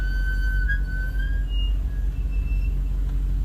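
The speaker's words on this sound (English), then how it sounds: "Ceramic brakes. I don't like ceramic brakes. They squeak." Ceramic car brakes squeak with a thin, high-pitched whine that wavers and fades in and out over low engine and road rumble as the vehicle rolls slowly.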